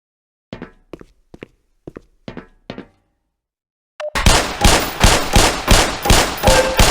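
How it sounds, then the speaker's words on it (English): Pistol shots ring out at targets on a Black Mesa training range, starting with about six sharp, echoing reports at a slow pace and then giving way to a loud, dense run of rapid blasts. "Put 7 rounds in the center ring of each target."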